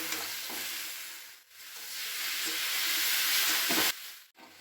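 Elephant apple with salt and turmeric fries in a pan for pickle, a loud steady sizzle broken by scraping stirs and brief pauses, close up with no voices.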